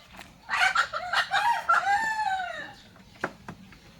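A native backyard chicken crows loudly nearby in a coop, one drawn-out crow followed by a few short clucks and faint background noise.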